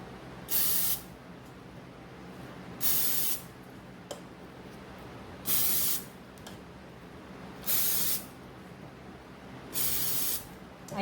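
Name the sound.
spraying oil onto frozen lumpia for Ninja air fryer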